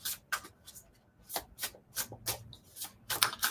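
A deck of playing cards is shuffled at a friendly card session, several brisk riffling bursts with short gaps, near and clear, no voices.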